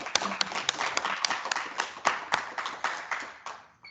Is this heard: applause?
yes